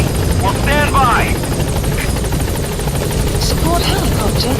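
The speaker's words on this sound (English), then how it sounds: "Support helicopter has arrived." A support helicopter in Metal Gear Solid 5: The Phantom Pain, its rotor drone steady and close, with chirpy in-game sound effects and a brief voice layered over the constant whir.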